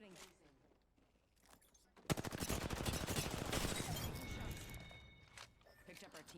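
Rapid bursts of gunfire in Apex Legends, dense close shots firing in a continuous volley with game effects and a brief voice after, preceded by quieter movement and clatter.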